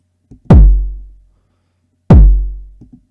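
Two loud hardstyle electronic kick drums distorted by a bit crusher, each a hard gritty punch with a long booming decay, separated by short quiet gaps.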